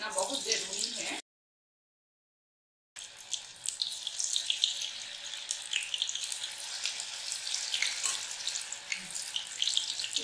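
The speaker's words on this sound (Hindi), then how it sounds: "तो अब हम इसमें एक एक बड़ी डालेंगे, ऐसे धीरे धीरे हम चम्मच से छोड़ेंगे।" Soya chunk pakoras lowered one at a time into hot oil, giving a steady bright hiss and crackle of frying that runs almost throughout, with a short gap of silence near the start.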